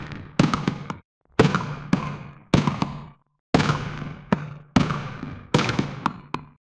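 An AI-generated sound meant to be 10,000 golf balls dropping down a well comes out as a series of loud, sharp cracking bursts with rattling decays. Eight or so clustered impacts are separated by brief silences, sounding more like fireworks than falling balls.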